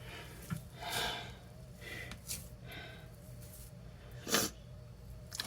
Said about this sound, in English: I have the sniffles and I can't blow my nose at the time.